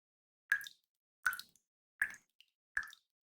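Water dripping from a ceiling in the video game Goddess of Victory: Nikke, four crisp, evenly spaced plops with a faint extra drip between them, close and clear against silence.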